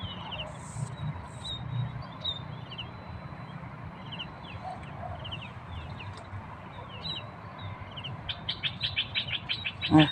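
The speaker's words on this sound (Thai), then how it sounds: "เสียงนกร้องค่ะ" Birds chirp and tweet over steady outdoor ambience, with a quick run of repeated chirps near the end.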